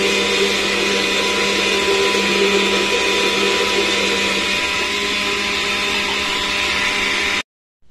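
Electric mixer beating eggs, sugar and oil, a loud steady whir held continuously for about seven seconds before cutting off abruptly.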